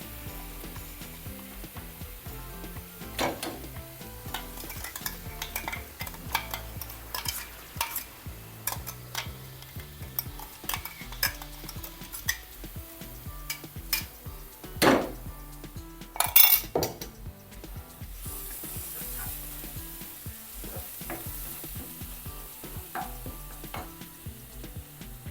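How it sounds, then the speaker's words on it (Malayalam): Crushed garlic, ginger, cinnamon and masala are stirred in a pan for an egg curry with green peas and potato, giving a steady stream of scraping spoon, clinks and soft sizzling, moderately loud with no talk. "ഇതിനകത്ത് ഇപ്പം നമ്മൾ ഈ പൊടി എടുത്ത് ചതച്ചിട്ട് വന്ന വെളുത്തുള്ളി ഇഞ്ചിയും പട്ടയും മസാലയൊക്കെ ഇല്ലേ, അതും ഇട്ട് കൊടുക്കാം"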